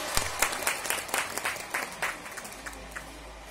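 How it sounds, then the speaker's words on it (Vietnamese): Guests at a wedding ceremony break into a burst of clapping, a dense, moderately loud applause that rises with sharp peaks and then thins out over a few seconds. "Mời toàn thể quý vị dành một tràng pháo tay chào đón và chúc mừng."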